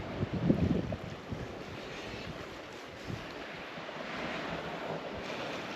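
Ocean waves wash into a small rocky cove on a beach at Lagos, Portugal, a soft continuous surf hiss with a slightly stronger surge early on, mixed with light wind noise and no talk.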